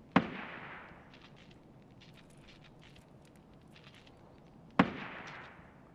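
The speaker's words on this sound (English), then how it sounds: "someone's getting shot" Two sharp gunshot cracks in Escape from Tarkov, spaced several seconds apart, each ringing out with a decaying echo over a low ambient background with faint scattered sounds between them.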